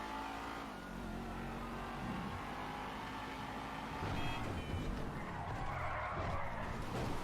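A car in GTA 5 accelerates hard with a steady revving engine and tires skidding and squealing throughout, growing a little louder toward the end, with no talk.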